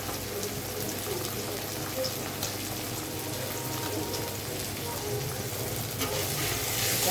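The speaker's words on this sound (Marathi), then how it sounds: "आता आपण सर्व भाज्या तेलामध्ये टाकून घेऊया." Mixed vegetables frying in oil for veg masala Maggi noodles, a steady hissing sizzle with scattered crackles and faint stirring, swelling slightly louder toward the end, no talking.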